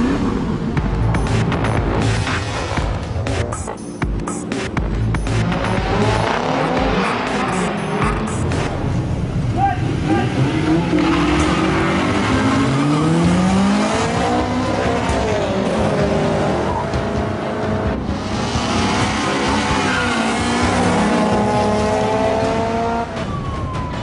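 Street racing cars roar through town, engines revving hard with rising and falling pitch, tires squealing and skidding as vehicles pass close and loud throughout.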